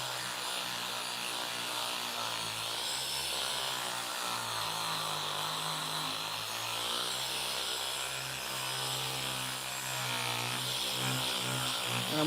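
Machine polisher cutting down a scratch in car paint, a steady continuous whirring drone with a faint rubbing texture, running alone and close for the whole stretch.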